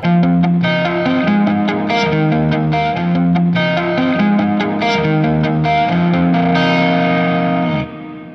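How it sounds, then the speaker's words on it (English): An electric guitar plays a continuous riff through a heavy effects chain with distortion and reverb, loud and sustained before the notes ring out at the end. "So now, we should have some reverb."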